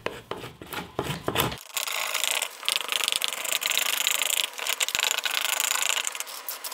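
A cheap hand scraper rasps steadily across the bottom of a hand-carved wooden bowl, a continuous close scratchy grinding with short strokes at first, then sustained scraping with no talking.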